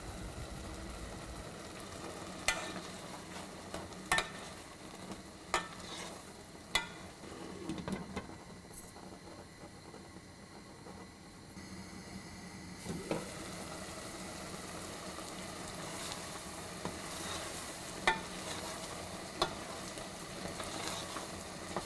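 A spoon or ladle stirs jackfruit cooking down in a pan for payasam, giving occasional scraping knocks over a soft continuous sizzle and low background hum, with no talking.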